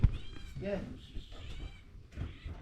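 A cat meows a few times amid background voices and household noise, the calls short and fairly close.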